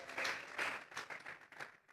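Faint, distant clapping from a church congregation swells and fades in uneven bursts, thin and quiet with no voices heard.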